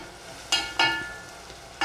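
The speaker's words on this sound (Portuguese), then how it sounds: "Ó, ficar um feijão bem refogadão." Beans sautéing in a pot for a simple home lunch, giving a low steady sizzle with two sharp bursts of spitting hiss near the start and quieter crackles after, with no talking.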